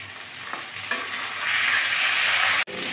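Potatoes with spices, chili paste and ginger paste sizzle steadily in a pan, a close, continuous frying hiss that swells as stirring continues, with a sharp clink near the end.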